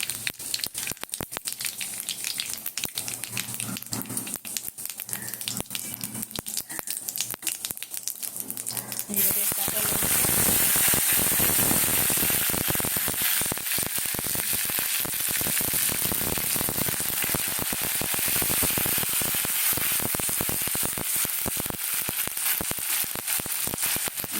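Cumin and black cumin seeds dropped into hot oil for khichuri with Gobindobhog rice, faint crackling at first, then a loud, dense sizzle bursting in and holding steady, with crisp popping throughout.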